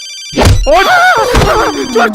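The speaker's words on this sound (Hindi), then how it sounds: "ई ले, पिंटुआ के महबूबा का भी फोन आ गई।" A mobile phone rings with an incoming call, a melodic ringtone with a sliding electronic tune that plays loudly and alone for about two seconds.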